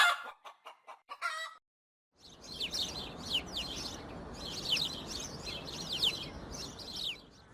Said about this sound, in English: I found these sound effects for the chickens.